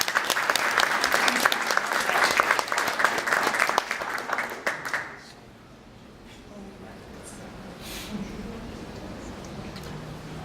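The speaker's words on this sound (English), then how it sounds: "Let's give them a round of applause." Audience applause at a tech startup presentation event, dense clapping for about five seconds that abruptly stops, leaving quiet room noise with a few scattered sounds.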